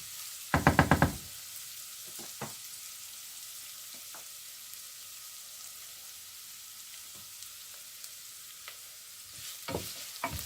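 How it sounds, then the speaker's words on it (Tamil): Onion and curry leaves sautéing in a pan for a dried anchovy curry: a soft, faint hiss of frying with a cluster of sharp utensil knocks at the start and a few more near the end, no voices. "சேர்த்துட்டு இந்த வெங்காயம் கொஞ்சம் வதங்கும் வரையும் இதை விட போகிறேன்."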